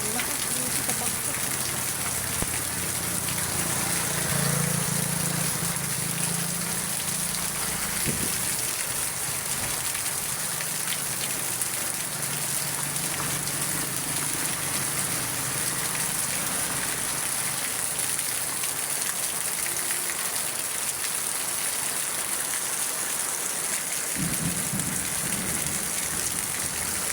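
Heavy rain pours down on a rainy night in a dense, continuous roar with a broad hiss, steady and loud for the whole stretch, with faint low sounds underneath.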